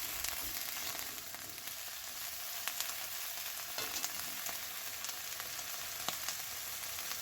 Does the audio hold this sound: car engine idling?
no